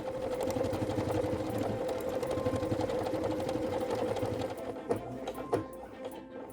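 A Pfaff Creative Ambition 640 sewing machine runs steadily in sewing mode with an even motor whir and rapid needle rhythm, close and clear, then slows and stops with a few mechanical clicks near the end.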